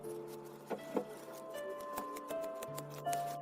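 A carving knife slices thin pieces from a small block of wood while a cat fridge magnet is carved. Faint, quick ticking cuts repeat at an uneven pace, close by, with no talk.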